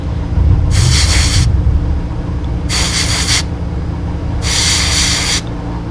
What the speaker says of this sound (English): Real light spray. Don't need to kill it.